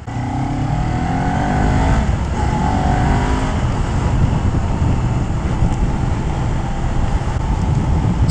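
Kawasaki Ninja 400 motorcycle, a 400cc sport bike, with its engine revving steadily through the upper rev range, loud and close under heavy wind rush that runs throughout without pause.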